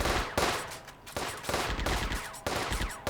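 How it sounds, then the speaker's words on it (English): High explosive artillery rounds fire in the PC war game Firefight as a quick series of about six sharp, loud blasts, each trailing off briefly before the next one hits. "Let's use our artillery, our high explosive, here."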